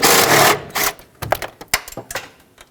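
A ratchet works a 13mm bolt loose on a 2013-2020 Nissan Pathfinder, close and sharp: a couple of longer rasping bursts, then a string of quick, separate clicks.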